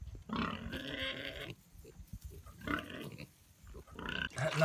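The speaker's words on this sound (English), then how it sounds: "The wild pack of miniature pigs roams throughout the farmyard, staying together like a school of fish." A group of miniature pigs grunts and snorts in a farmyard while foraging for food, in several close, irregular bursts separated by short quiet gaps.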